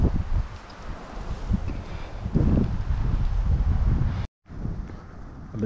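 Strong wind buffets the microphone out in an open public-land marsh, a steady rough roar with gusts swelling louder midway and a brief dropout near the end.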